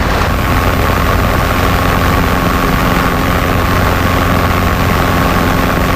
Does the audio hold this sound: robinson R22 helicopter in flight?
yes